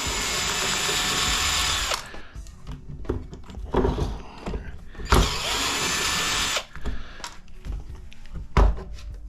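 A power drill unscrews fasteners from PTAC fan motors being scrapped for copper stators. Several loud whirring bursts are separated by clunks, handling noise and brief pauses, with a faint voice in between.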